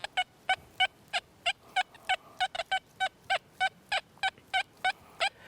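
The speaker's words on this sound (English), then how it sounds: "let's go from audio response 4 to audio response 6 and listen to it now." An XP Deus II metal detector gives a target signal at audio response 6, a string of about fifteen sharp, loud, evenly spaced beeps repeating quickly with no talking.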